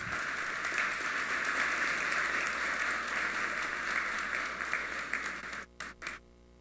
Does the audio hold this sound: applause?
yes